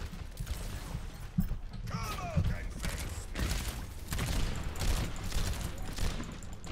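Rapid gunfire in the video game Overwatch, dense bursts of shots rolling on through the whole stretch, with a voice talking over the shooting at times.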